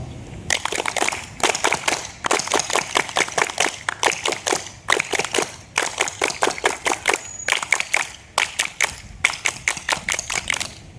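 Scout troop members at a camp opening ceremony clap in unison, sharp rhythmic bursts grouped into repeated rounds of quick patterned claps with brief pauses between, loud and close, no talking.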